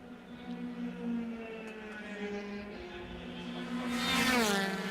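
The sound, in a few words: loud race car on the front straight at Watkins Glen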